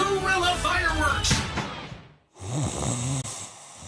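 A person snores in a mattress advertisement, a rough rattling breath at close range over a low hum, followed after a brief gap by someone talking.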